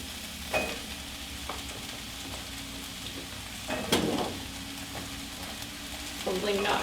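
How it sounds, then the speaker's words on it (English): Zucchini and onion fry in a pan with a low, steady sizzle, broken by a few sharper clatters and scrapes as the vegetables are added and stirred. "Then you will add the zucchini to the pot, pan, whatever you want to call it."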